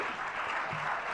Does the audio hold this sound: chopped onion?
no